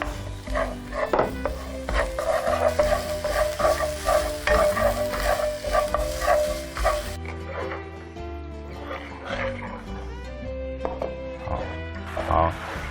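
Minced ginger crackles and sizzles in oil in a wok while being stirred, a busy frying hiss with clattering utensil scrapes that quiets partway through, with people talking over it.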